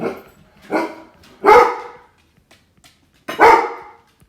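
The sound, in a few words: dog barking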